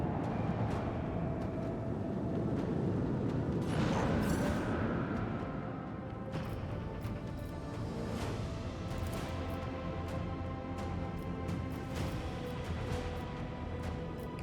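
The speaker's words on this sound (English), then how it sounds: "Oh, torpedoes." Torpedoes strike a ship in the space battle game Warhammer 40,000: Rogue Trader, with deep rumbling impacts and a heavy burst near the middle, then continuing low booms and crackling debris.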